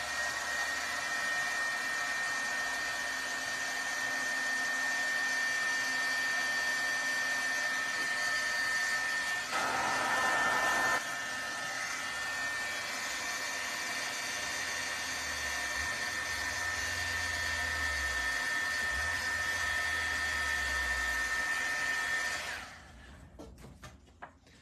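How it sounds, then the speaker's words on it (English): Heat tool blowing hot air over embossing powder, a steady whirring roar lasting about twenty seconds at close range before it switches off, with faint background noise. "let me just hit this with my heat tool quickly"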